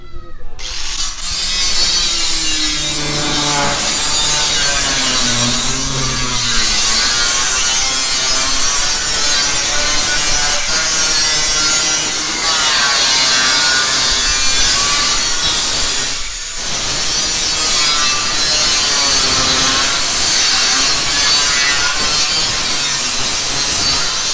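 Grinder running steadily on steel during a steel deck renovation, a continuous loud, whining grind with shifting pitch that lasts throughout, briefly dipping once before resuming.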